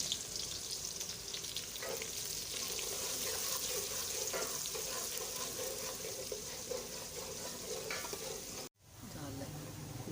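Three medium onions frying and browning in ghee or oil, a steady close sizzle with occasional stirring scrapes, briefly cut near the end.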